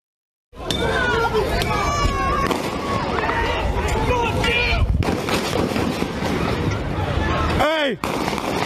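Gunshots ring out in recorded street footage amid a noisy crowd, sharp repeated cracks over constant shouting and babble, loud and chaotic, with people yelling throughout.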